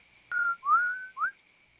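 Three short whistled notes in quick succession, each sliding upward in pitch, clear and fairly close, with silence around them.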